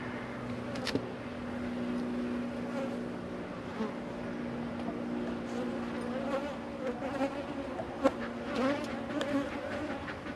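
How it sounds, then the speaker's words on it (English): Angry honeybees at a winter hive during dry feeding, a dense steady buzz with droning harmonics close to the microphone, a few bees zipping past louder for a moment, and no voices. "Angry bees."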